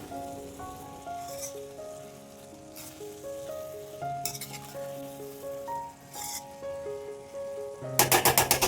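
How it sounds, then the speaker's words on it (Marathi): Fresh green fenugreek leaves (methi) sizzle in a pan while being stirred, with soft crackling under steady background music and a louder burst of frying and clinking near the end. "आता ही मेथी आपण थोडंसं वर खाली करून घेऊया"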